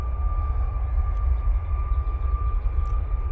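A TUI airliner on its takeoff roll at Manchester Airport gives a steady, distant low engine rumble with a faint sustained whine, unchanging over a few seconds and heard alone.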